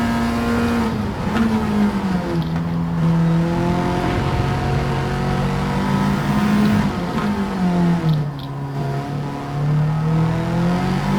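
An Alfa Romeo 4C from 2014 runs flat out around Road Atlanta in Gran Turismo 7, its engine loud and continuous. The pitch rises steadily through the gears, drops on each shift, and climbs again, with no talk.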